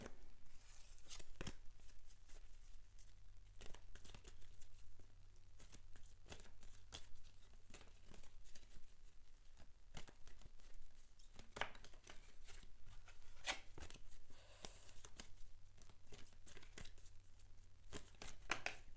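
A deck of tarot cards being shuffled by hand, with soft repeated riffles and slaps of card stock, close and quiet with no one talking.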